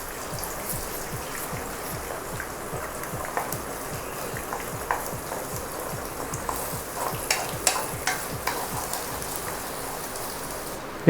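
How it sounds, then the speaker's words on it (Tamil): Eggs are scrambled in a hot wok on high flame for egg fried rice, a steady crackling sizzle with rapid rhythmic scraping of a spatula and occasional sharper clacks. "இதை ஸ்க்ராம்பிள் பண்ண ஸ்டார்ட் பண்ணலாம்."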